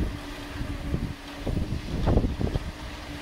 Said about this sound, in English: Right now, the wind has been dying down a lot